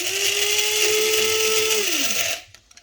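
Coffee grinder grinding beans to a coarse grind for French press coffee: a loud, steady motor whine with a gritty grinding texture for about two seconds, then the pitch drops as it spins down and stops, leaving near silence.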